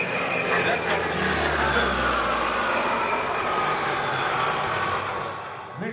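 An Atlantique 2 maritime patrol aircraft passes at the La Ferté-Alais air show, its engines a loud, broad roar whose pitch slowly falls as it recedes.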